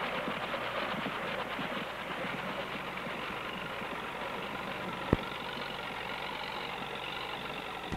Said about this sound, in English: a farmhand is driving a tractor. The tractor is pulling a mower